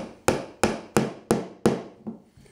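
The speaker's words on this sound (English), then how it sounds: "Just slam those pins through a little bit." Five sharp hammer blows strike steel pins through knife handle scales set in epoxy, evenly spaced and close, each ringing briefly before the next, with a softer sixth tap at the end.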